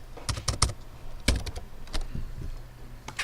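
Keys clatter on a computer keyboard as a short forum comment is typed, with irregular clusters of clicks and brief pauses between them, close and moderately quiet, no speech.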